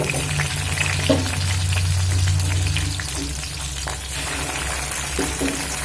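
About a hundred grams of prawns fry with onion in a teaspoon of oil, making a loud, continuous sizzle, with a low steady hum beneath and occasional stirring clicks.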